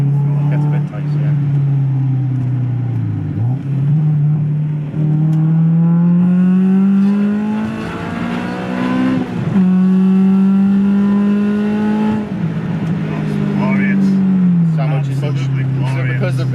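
Honda Civic Type R EK9 engine revs and pulls through the gears into VTEC, a loud droning in-cabin note rising and falling over several sweeps, with people talking over it.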